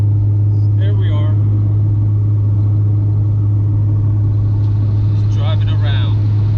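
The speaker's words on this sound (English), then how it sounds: "Just driving around." A car drives along with a constant, loud low engine and road rumble inside the cabin, while a couple of brief voice sounds surface over the hum.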